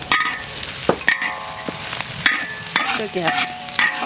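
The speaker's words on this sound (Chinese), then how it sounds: "你看，一定要把这个洋葱炸香啊！" Shiitake mushrooms and onion stir-fried in hot oil, with close, steady sizzling and repeated sharp scraping strokes of a spatula; a voice briefly speaks.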